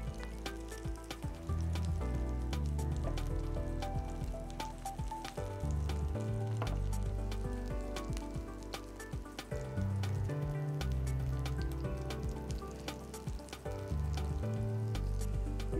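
Potato and mushroom pieces frying in a mix of butter and oil, a steady close sizzle with crackling pops and a few soft stirring knocks, no talking.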